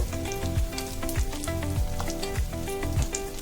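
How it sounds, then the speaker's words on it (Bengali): Spices fried in a pan with a little water for chicken kadai biryani, with turmeric, chili powder and Kashmiri chili powder added to a paste. The sizzle is steady and close, with occasional stirring sounds. "অল্প পরিমাণে জল দিয়ে মশলাটা ভালো করে ভেজে নিতে হবে।"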